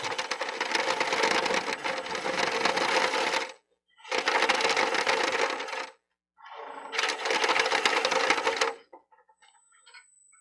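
Wood lathe turning a wooden cowboy hat, three loud sustained bursts of tool-on-wood cutting noise with short silent pauses between them, ending in faint scattered clicks.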